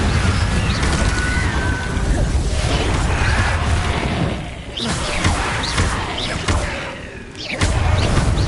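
Confringo blasting spell explosions in Hogwarts Legacy, loud bursts and crashes layered over a dense roar of magical combat, with a few brief dips in the din. Voices are faintly present.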